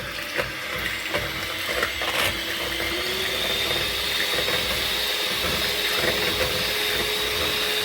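An electric mixer whipping cream for a no-bake fruit cake, giving a steady whirring drone with a faint rising whine, loud and continuous, with small clatters against the bowl and no voices.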